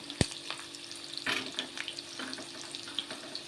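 Onion and cumin frying in hot mustard oil for a bottle gourd pulusu: a soft, continuous close sizzle with one sharp clatter at the start and a brief louder stir midway.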